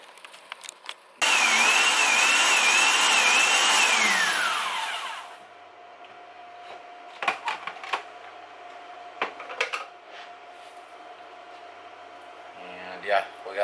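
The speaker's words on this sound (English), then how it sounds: "For now, I'm going to try the food processor method." A food processor runs on harvested wheat berries to loosen their papery husks, a loud steady motor whir with a rising and falling pitch for about four seconds before it cuts off, followed by quieter clattering and talking.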